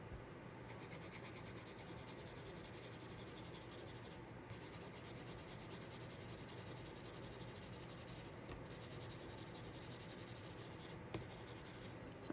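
A blunt colored pencil shades paper in continuous fanning strokes, a close, steady scratchy rasp that runs without pause, with a few brief lifts of the pencil.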